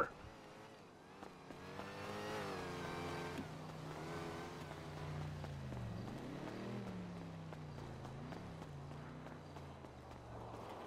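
A car in a GTA roleplay game pulls away with a low engine hum and shifting revs, running continuously at moderate level with some clattering game sounds layered over it.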